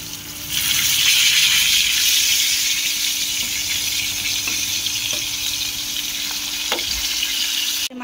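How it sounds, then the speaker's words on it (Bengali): Fish frying in a pan on an induction cooker gives a loud, steady sizzle that runs unbroken for about eight seconds after a brief quieter start, with a few sharper crackles and pops near the end. "এই যে ইন্ডাকশনে মাছ ভাজা হচ্ছে"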